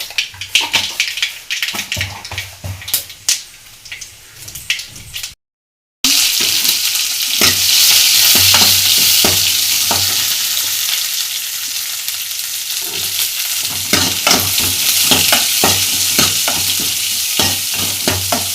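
Ponnanganni keerai greens fry loudly in a hot pan for a brinjal tamarind-water kuzhambu, a constant close sizzle broken by the repeated scrape and clatter of stirring, with a brief silent gap early on.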